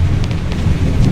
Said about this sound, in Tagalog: lumalakas na po yung ulan